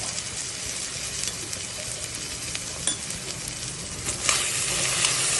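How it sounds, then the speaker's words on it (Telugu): Onions, green chillies, dried red chillies and cumin seeds frying in hot oil, giving a constant bright sizzle with a few louder spits and stirring scrapes. "ఇలా వేగుతున్న నూనెలో జీలకర్ర, ఎండుమిర్చి, కట్ చేసి పెట్టుకున్న పచ్చిమిర్చి, ఆనియన్స్ ఫ్రై అవుతున్నాయి కదా"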